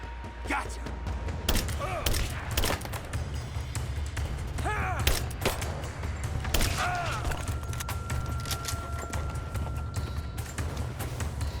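Gunfire in the video game Rise of the Tomb Raider pops in scattered sharp shots and thuds across the scene, mixed with creaks, voices and a low rumbling background.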